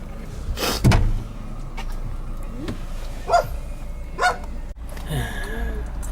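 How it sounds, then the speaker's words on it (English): A puppy near a car gives a few scattered sharp barks and yelps, separated by quiet gaps, heard over faint background noise inside or beside the vehicle. "He's barking at you."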